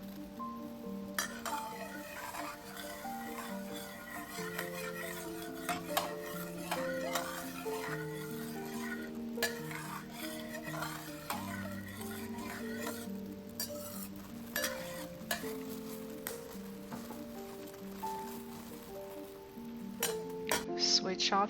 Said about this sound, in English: pour the sauce mixture in, bring to a boil